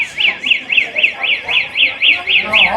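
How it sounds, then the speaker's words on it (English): A car alarm wails on a city street, a steady repeating rising-and-falling siren cycling about four times a second, loud and fairly close. "Somebody's car alarm."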